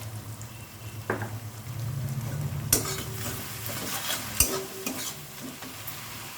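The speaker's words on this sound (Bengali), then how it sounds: "পেঁয়াজটা আমি ভালোভাবে ভেজে নেব।" Onions frying with a little salt in a pan give a steady sizzle, while a spatula makes a few sharp scrapes and knocks against the pan. Nobody speaks.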